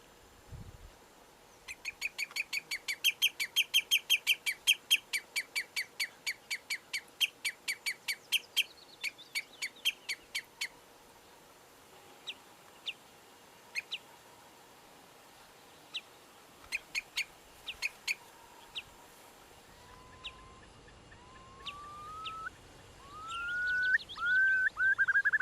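Wild birds call in a Sri Lankan wetland: rapid bursts of sharp repeated chirps, then scattered single notes, and at the end rising whistled calls amid a swell of background noise.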